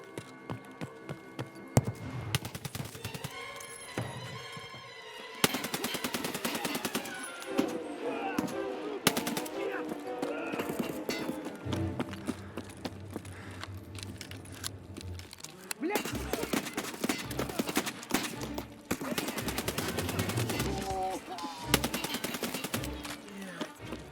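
Gunfire from an RD-704 rifle in the Escape from Tarkov game, heard as repeated bursts of shots with dense broadband blasts and echoing tails, while a voice talks over much of it.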